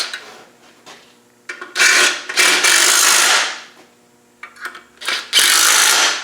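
A hand ratchet winds down bolts on a Land Rover 300Tdi diesel engine, giving several bursts of loud, close rasping clicks separated by short pauses.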